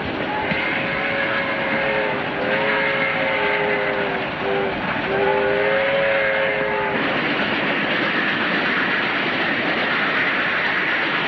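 A passenger train running on rails in a 1932 film, a loud steady rumble with a sustained horn-like tone sliding through the first seven seconds before the roll continues alone.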